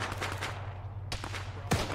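Gunfire in the Arma video game during a ShackTac squad session, a few scattered distant shots and bursts over a steady low hum, one sharper crack near the end.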